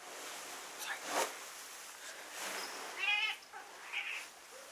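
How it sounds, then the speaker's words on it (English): House cat meowing indoors, a few short, fairly faint meows spaced apart over a quiet room hiss. "Kitty!"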